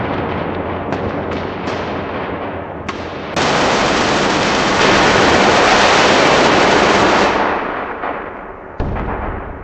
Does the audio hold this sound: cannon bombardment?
yes